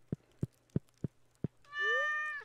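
Stardew Valley cat meows once in a clear, drawn-out tonal cry near the end, preceded by five evenly spaced soft footstep-like taps over a quiet low hum.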